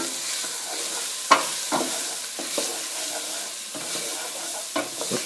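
Onions, green peppers and garlic fry in a pan over a flame while a spoon stirs them, giving a steady soft sizzle broken by sharp scrapes and clacks of stirring throughout, close and fairly quiet.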